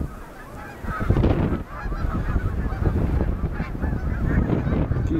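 A flock of geese on a canal honks repeatedly, overlapping calls rising and falling nearby, with no talking.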